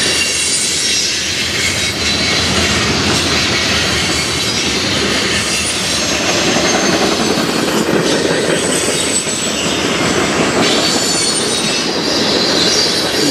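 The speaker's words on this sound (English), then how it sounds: "Obviously a much longer train." A long freight train rumbles past close by at night in Fostoria, Ohio, loud and continuous, with rattling wagons and occasional high squeals from the wheels throughout.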